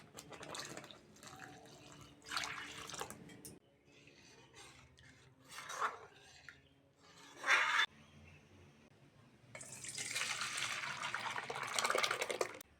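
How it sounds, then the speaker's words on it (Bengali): Water poured into a pot of mixed lentil dal: faint splashing and trickling in short bursts between quiet gaps, ending in a longer and louder rush of pouring. "এবার ডালে জল দিয়ে দেবো"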